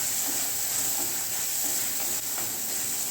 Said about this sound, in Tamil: நல்லா மசிச்சு தக்காளியை போட்டுடலாம். சீக்கிரமாக வதங்க.